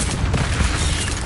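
A burst of the Incendio fire spell in Hogwarts Legacy roars as a dense, loud, crackling whoosh filling the whole moment without pause.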